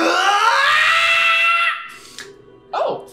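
A human voice imitates a monster's unnatural, ear-piercing scream: a loud, sustained, high, strained shriek lasting over a second, then fading, followed by a shorter rising cry near the end.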